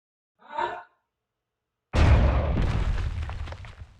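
A tank cannon fires in Space Engineers, an experimental main battle tank letting off one sudden, heavy boom that rolls into a long rumbling decay. A short breathy sound comes just before it.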